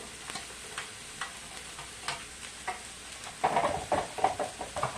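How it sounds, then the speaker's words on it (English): Celery ribs and onion sautéing in a pan: a light sizzle broken by irregular spoon scrapes and taps, growing busier and louder toward the end. "Throw in a couple ribs of celery now with my onion."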